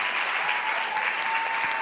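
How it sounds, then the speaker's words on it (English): A church congregation applauds steadily, a fairly distant wash of many hands clapping with a few sharper claps standing out, and no talking over it. "Clap your hands for Shadrach."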